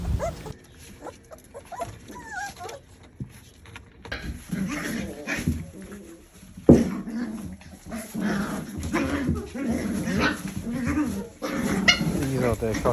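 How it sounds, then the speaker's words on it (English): Champagne cockapoo puppies play together up close, letting out small yips, whines and soft playful growls amid scuffling, while a person talks over the play almost continuously. "These champagne puppies are so cute. Look how they play with each other."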